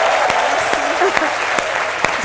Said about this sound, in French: je n'entends pas des applaudissements pour